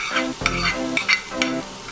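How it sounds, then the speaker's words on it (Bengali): Chopped capsicum and onion frying in a pan, with a steady close sizzle broken by several sharp scraping stirs at roughly half-second intervals. "এবার আমি দিয়ে দিলাম ক্যাপসিকাম কুচি"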